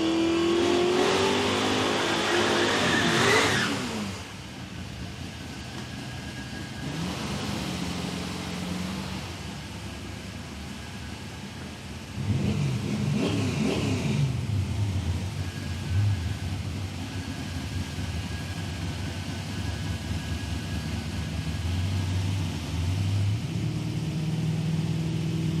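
Drag racing cars at Palmyra Raceway, Australia, an engine screaming up through its revs at launch, then fading as another loud pass roars in midway and holds a steady drone, heard from trackside.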